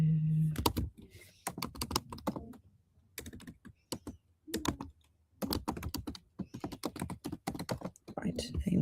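Bursts of typing on a computer keyboard, clusters of quick clacking keystrokes broken by short pauses, fairly close and moderately quiet, with a person talking between and over the keystrokes.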